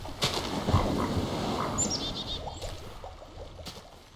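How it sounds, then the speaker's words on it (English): Ambient birds from a Minecraft atmosphere mod: faint chirps and a brief flutter of wings over a soft, low background wash, fairly distant and quiet. "the M Atmos mod, which adds like the ocean waves and birds and stuff"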